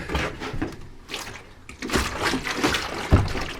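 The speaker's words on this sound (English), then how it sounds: "I'm up here to try and get some water running in there" Water running and splashing into a bathroom sink in a partly frozen house, an uneven, sputtering flow with surges and gurgles rather than a smooth stream, close by and moderately loud.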